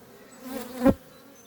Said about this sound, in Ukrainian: Гляньте, які бджолки обсіли, починають її дочистити